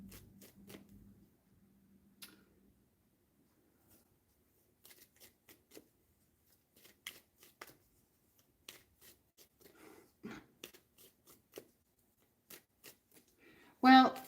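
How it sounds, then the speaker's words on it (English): A deck of cards being shuffled during a live hang-out Q&A session: scattered soft riffling clicks over several seconds, finishing with one loud, close burst of card noise. A faint voice is heard near the start. "I'm just going to shuffle."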